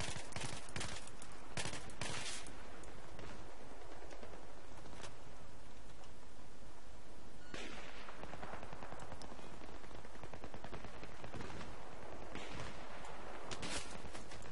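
Dense gunfire and scattered explosions from a Battlefield 3 match, with rapid bursts and heavy crackling shots piling up continuously over a rumbling backdrop, loud and busy throughout.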